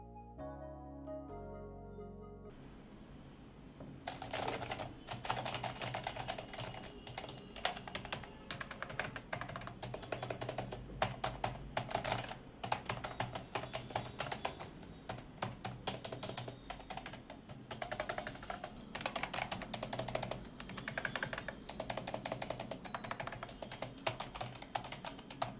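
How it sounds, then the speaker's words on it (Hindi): Rapid, continuous typing on a Redgear Manta keyboard, close and clear, with dense clattering keystrokes running for over twenty seconds after a short harmonic tone at the start. "आप देख ही सकते हो कि किस तरह से ये कीबोर्ड साउंड करता है।"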